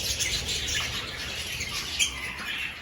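Birds in an aviary south of Dublin, busy overlapping chirps and squawks at close to moderate range, continuous with no talking.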